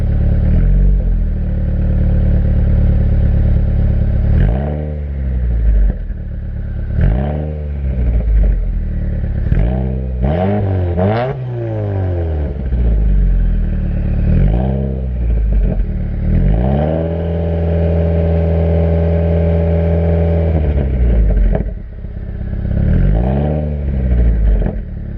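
A 2017 Subaru Forester XT engine running as it warms up, revving up and down several times with sweeping pitch rises and falls, then holding a steady, loud drone near the end, with no talking.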